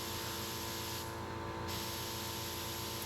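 A paint spray gun fed by a small air compressor, giving a continuous loud hiss of spraying air throughout, briefly changing in tone midway.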